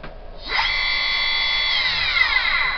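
A Chinese 2.2kW or 3kW CNC spindle spins up to 6,000 RPM, a steady bright electric whine with harmonic tones that starts after a brief pause and holds loud and close throughout.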